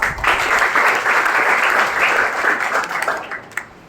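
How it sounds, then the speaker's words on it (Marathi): Audience of students applauding at a guidance session at a government industrial training institute in Niphad, a dense, steady round of clapping that holds for several seconds before tapering off, with no talk over it. "आपण ज्या टाळ्या वाजवल्या तिथूनच आपण सुरुवात करूया."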